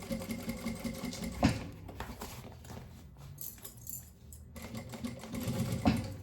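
A sewing machine stitches shut the opening of a lined fabric organizer, running in a steady rapid whir with brief pauses and louder thumps of the needle, close and fairly quiet, with no voices.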